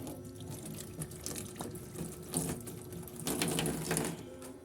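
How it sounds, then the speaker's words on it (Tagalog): Hands are washed under a running kitchen tap, a steady close splashing stream with shifting gurgles as the water hits skin and sink, no voices. "Hugas tayong kamay."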